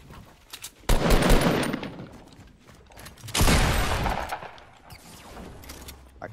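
Gunfire in the Fortnite battle royale video game, two loud rattling bursts of rapid shots with mechanical clicks between them, fading to quieter clatter.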